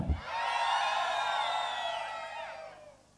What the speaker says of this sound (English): children, I want you to scream as loudly as you can